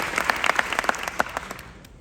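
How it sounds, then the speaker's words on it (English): An audience at a summit claps for about two seconds, a short burst of applause that fades out toward the end. "a big applause for them as well"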